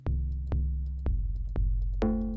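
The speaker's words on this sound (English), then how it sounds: "if you want to hear what the timpani DX7 sounded like" Five booming timpani-style strikes from a Yamaha DX7 preset played as a synthesizer plugin, evenly spaced about half a second apart, each ringing with a resonant pitched tail, the last brighter and more sustained.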